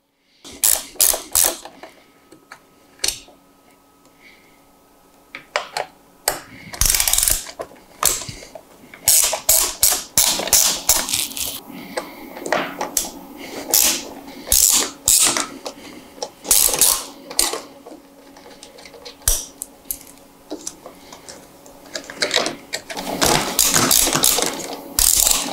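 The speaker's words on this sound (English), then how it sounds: "We're gonna use a 5/32 Allen with a ratchet." Ratchet with a 5/32 Allen bit backing out screws on a 2014-or-later Harley-Davidson during a radio install, with close, crisp rapid clicking in repeated bursts and short pauses between them.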